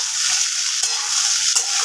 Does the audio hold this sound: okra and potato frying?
yes